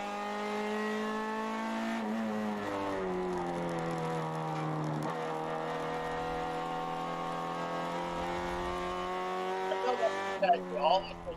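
A race car engine in a ChampCar endurance race at Utah's Salt Lake track, climbing in pitch through the gears, close and steady, with a brief tire squeal near the end.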